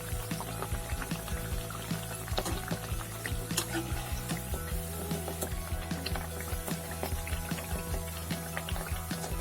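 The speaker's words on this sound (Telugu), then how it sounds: "కలర్ చేంజ్ అయ్యేంత వరకు ఫ్రై చేసుకుందాం." Ariselu, sweet rice cakes, fry in hot oil with a steady, faint sizzle and bubbling crackle, broken by small pops and clinks, with no one talking.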